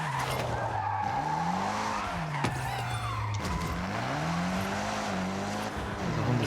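A car drives and skids with squealing tires in the video game Forza Horizon 6, the engine note rising and falling in long sweeps under steady road noise, with a sharp click midway.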